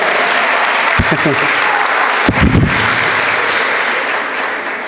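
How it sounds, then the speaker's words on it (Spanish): A church audience applauds a priest, with dense, loud clapping filling the room throughout and a few brief voices and shouts rising through it near the start and middle. "Un aplauso para el Padre Jason,"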